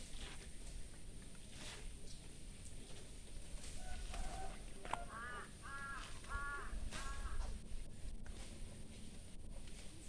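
Several crows caw in a short series of harsh, repeated calls at middle distance over faint outdoor background noise.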